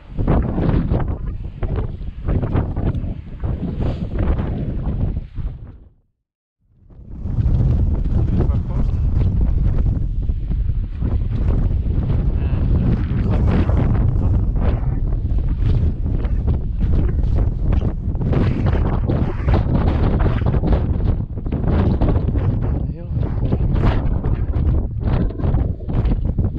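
Cold, blustery wind buffets the microphone on a mountain ridge near George Peak, a loud continuous roaring rumble with gusting surges and one brief lull.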